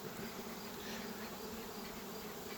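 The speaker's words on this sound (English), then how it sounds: "Where did all those honeybees come from?" Honeybees from homebred queens buzz in a dense, continuous swarm on a warm late-September day, a steady faint drone of many insects close together with no other sounds.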